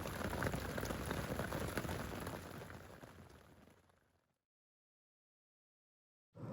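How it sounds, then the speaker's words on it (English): Steady rain falls at night on a camping shelter, a dense hiss of drops that fades out over about four seconds before a brief return at the end. "as soon as I put myself into my sleeping bag, the rain started"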